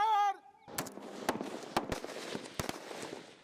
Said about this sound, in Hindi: Grouping fire.